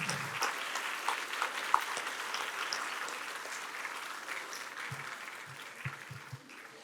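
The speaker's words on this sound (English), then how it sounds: "A big round of applause." Audience at a school science exhibition prize ceremony applauding the winners, sustained crowd clapping that slowly fades over several seconds, heard at a distance in a large space with a few sharp claps standing out.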